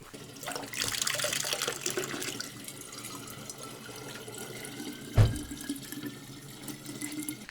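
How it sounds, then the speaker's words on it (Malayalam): Cold mountain spring water runs from a village tap near wooden houses in Turkey, a soft trickling splash with a faint rush early on and a brief knock midway. "ഈ മലയിൽ നിന്ന് വരുന്ന വെള്ളമേ നല്ല അടിപൊളി മിനറൽ വാട്ടർ"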